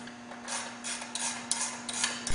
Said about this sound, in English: Tighten to the correct torque specs with an 11/16 wrench on the nut and a 5/8 wrench on the bolt